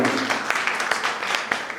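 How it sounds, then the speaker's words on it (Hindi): An audience at a religious gathering with a Jain acharya in Muzaffarnagar claps for a family, a brief, moderately loud patter of many hands. "ऐसे परिवार के लिए जोरदार ताली बजा दीजिएगा"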